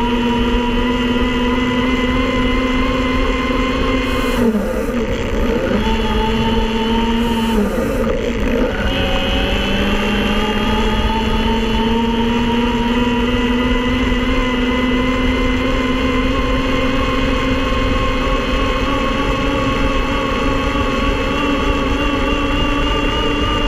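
Electric motor of a BULLS Outlaw E45 e-bike with a 48 volt battery, whirring loud and close as a constant tonal drone that dips briefly twice and then holds steady.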